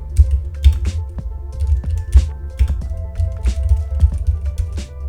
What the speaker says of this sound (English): now I am back on the HyperX Solocast, and time for a typing test